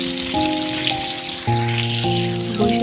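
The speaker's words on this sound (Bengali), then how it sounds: "এখন সব দিকে বৃষ্টি হচ্ছে" A steady hiss of falling rain sits behind sustained tonal music notes that shift every second or so.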